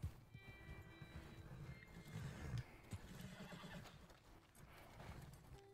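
Horses in the video game Red Dead Redemption 2 neigh and whinny loudly over a steady clip-clop of hooves, with a dense, continuous jumble of animal noise throughout.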